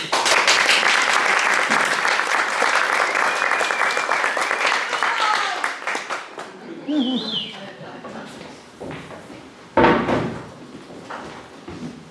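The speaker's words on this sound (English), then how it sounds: "for this play to end with rapturous applause from the audience" Rapturous audience applause closes a short stage play at the Gi60 Houston 2024 one-minute play festival: loud, dense clapping for about six seconds, then fading into scattered thuds, a door-like bang and quiet voices.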